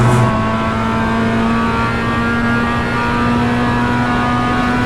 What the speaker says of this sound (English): having a go on the MX-5 on the iRacing service